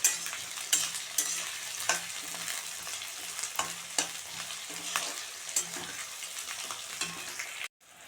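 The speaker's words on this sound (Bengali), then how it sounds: "পেঁয়াজটা একটু ভাজা ভাজা হয়ে গেলে" Onions frying in a pan while being stirred, with a steady sizzle broken by repeated scraping strokes of the spoon, close and fairly loud, no voices.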